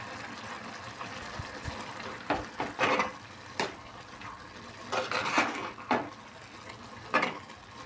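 Garlic cloves dropped and stirred into a pot of rice and dal, with a soft background sizzle broken by several scraping and clattering stirs against the pot at uneven intervals, close and moderately loud.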